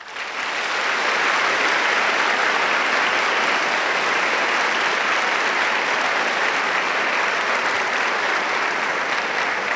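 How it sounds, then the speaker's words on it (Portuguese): Sustained audience applause for a bishop at a Catholic diocesan talk in Portuguese, a dense steady wash of clapping that swells in within the first second and holds loud and even to the end, with no talk over it. "e do bispo Dom José Carlos, que merece uma salva de palmas."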